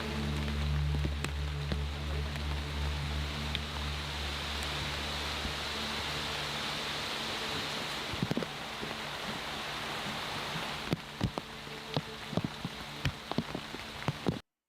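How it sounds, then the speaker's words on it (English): Rain falls steadily on a dense Amazon rainforest canopy, a continuous wash of hiss with scattered sharper drop ticks growing more frequent toward the end, no voices present. "The first few drops are coming down, but the canopy is so dense, it eats up a lot of that rain before it even makes it down here"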